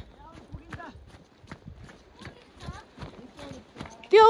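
Horses plod up a steep mountain trail on a trek, their hooves making irregular clip-clop knocks beneath close conversation.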